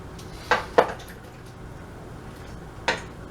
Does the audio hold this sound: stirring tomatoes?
yes